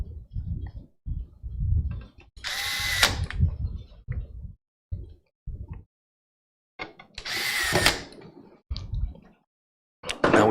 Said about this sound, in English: Then we can put the 2 screws back in that we're holding it down.